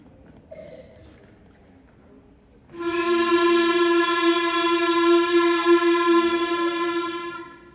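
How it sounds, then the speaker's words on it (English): A sustained reedy woodwind tone holds one pitch for several seconds after a quiet start, clear and fairly loud. "this is what the full clarinet sounds like"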